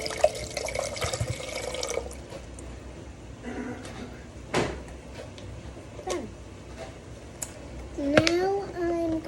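Liquid is poured into a container while boba is made at home, giving faint splashing and dripping at close range amid quiet kitchen handling noises and a voice briefly audible.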